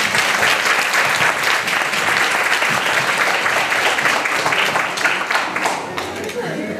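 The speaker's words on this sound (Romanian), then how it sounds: "Vă rog frumos să le aplaudați." Loud, dense applause from an audience at a ceremony honoring girls who won third prize nationally in a school olympiad, steady throughout and tapering slightly near the end.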